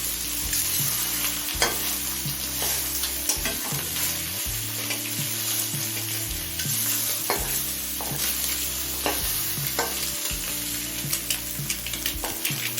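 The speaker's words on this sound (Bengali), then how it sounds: "ডিমের দুটি তিনটে পাল্টে ভেজে নিয়েছি" Eggs frying in mustard oil in a pan give a steady, close sizzle, with the pan scraped and turned in irregular strokes throughout and no voices.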